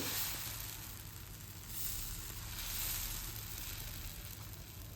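Adai dosa batter sizzles on a hot pan with a steady, soft hiss and crackle that holds throughout, fairly quiet and alone.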